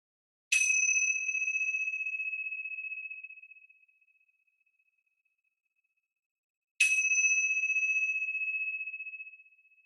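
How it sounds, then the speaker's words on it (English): Meditation chimes during a chair yoga class ring out clearly twice, each a bright metallic strike with a long sustained tone that slowly fades into silence, the second strike coming after a quiet gap. "focus our attention on the sound of the chimes. I'll ring them 3 times."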